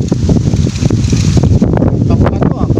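Strong wind buffets the microphone while fishing for tilapia on a river, a loud, constant rumbling roar with rustling gusts. Voices can be heard faintly within it.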